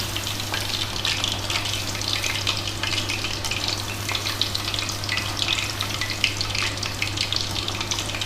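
Chicken pieces sizzle in hot oil for restaurant-style chilli chicken, a steady, close crackling fry with occasional stirring and a constant low hum beneath.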